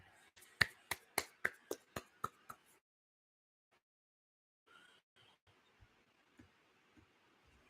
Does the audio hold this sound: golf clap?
yes